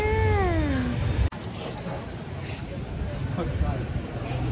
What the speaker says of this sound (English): Look at the hairless cat.